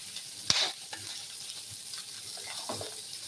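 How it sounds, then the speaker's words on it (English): Onions and pork frying in a pan, a soft steady sizzle with a sharp stir or scrape near the start and faint clinks later, close and quiet with no talking. "I want to know if my onions are burning or the pork itself"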